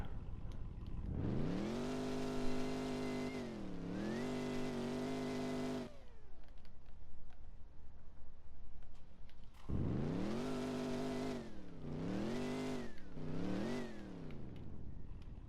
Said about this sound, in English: the car is loud